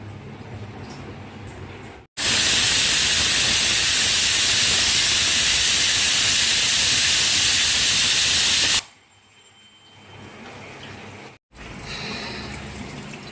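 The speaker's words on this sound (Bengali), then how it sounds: "এখানে প্রেশার কুকারে বসিয়ে দিয়েছি ডালটা সেদ্ধ হোক" A pressure cooker boiling biuli (black gram) dal lets off one long, loud, steady hiss of escaping steam lasting several seconds. It cuts in sharply and stops just as abruptly, leaving quiet kitchen background on either side.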